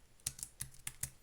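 Computer keyboard typing in a video-editing session: five or six sharp, close key taps in an uneven quick burst, with short gaps and no speech.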